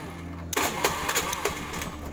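A carbureted Honda Beat scooter engine catches and starts suddenly, then runs with a rough, uneven idle close by, with no talk over it.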